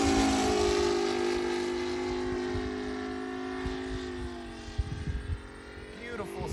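ASP 400 radial engine on an Aeroworks Yak 55 model plane droning overhead with a steady tone that slowly shifts pitch as it flies, with wind buffeting and a voice speaking over it.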